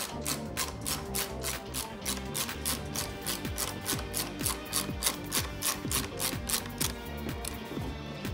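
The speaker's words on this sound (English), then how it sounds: "So I'm using my Stanley socket set and a wrench, 1/2 inch, to remove everything." Stanley socket set ratchet backing out half-inch bolts on a 2019 Can-Am Outlander 850 MAX XT, rapid continuous clicking in quick bursts, close and fairly loud, with no speech over it.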